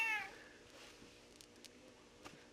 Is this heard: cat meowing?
yes